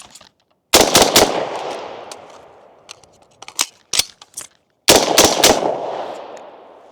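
An AR-15 rifle fires two rapid bursts of three shots each, loud, sharp and close, with scattered clinks and handling noises in the gap between the bursts.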